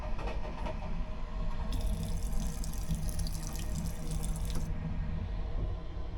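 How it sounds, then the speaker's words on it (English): Water runs from a sensor tap into the sink of a first-class train toilet on Hungarian Railways. It is a close, steady splash that grows brighter in the middle as the flow strikes the basin, then eases again, with a faint rumble of the train underneath. "The sensor was actually horrible, but I did manage to get the water working."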